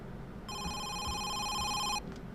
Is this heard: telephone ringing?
yes